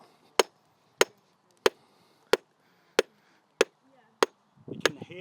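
A hammer strikes rock to split open an ammonite fossil, about eight sharp, evenly spaced cracks roughly half a second apart, close and loud, with rustling handling noise at the end.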